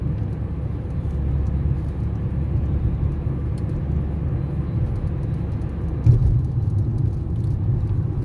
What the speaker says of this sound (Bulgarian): леки коли и тежкотоварни автомобили, тирове за Видин, Дунав, мост 2